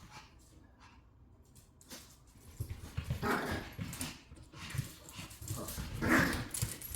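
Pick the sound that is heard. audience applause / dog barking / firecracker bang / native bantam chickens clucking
dog barking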